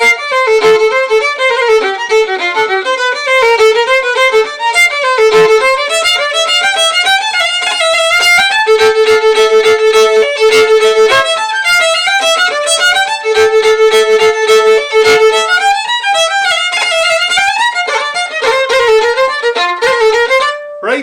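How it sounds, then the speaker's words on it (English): A fiddle plays a Cape Breton style hornpipe in a fast, continuous run of bowed notes with a steady, lilting rhythm, loud and close, with no talking. "in Cape Breton and the Maritime provinces, hornpipes sound like this."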